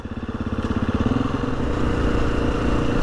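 A Husqvarna FE 350 motorcycle engine while riding, a close, loud, pulsing putter that climbs in pitch as the bike picks up speed, then settles into a steady droning roar over wind, with no voices.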